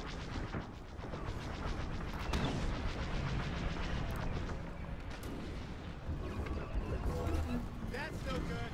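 Proton torpedoes fire from a starfighter in the space combat game Star Wars Squadrons, with loud booming launches and mechanical clatter over a dense, continuous engine and battle roar.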